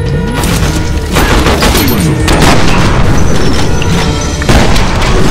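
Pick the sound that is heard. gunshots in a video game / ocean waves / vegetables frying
gunshots in a video game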